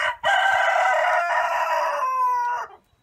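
A rooster crowing once, loud and close, a single drawn-out cock-a-doodle-doo lasting about two and a half seconds, heard on its own with no talking.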